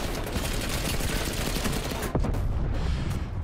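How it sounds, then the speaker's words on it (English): Rapid gunfire from a Bullfrog in the video game Call of Duty Cold War rattles loud and almost continuously, with one sharper, heavier shot near the end of the burst. "I'm shooting this dude."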